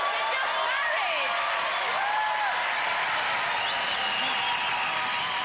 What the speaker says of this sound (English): round of applause, they're just married!